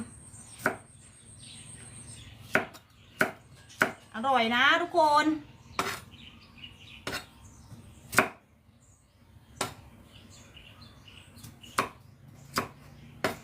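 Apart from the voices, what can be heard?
knife chopping kaffir lime leaves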